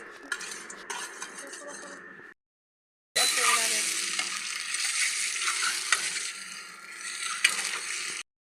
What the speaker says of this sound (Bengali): তারপরে কড়াইতে একটু তেল দিয়ে দিলাম আর ডিমটিও বাইজান দিলাম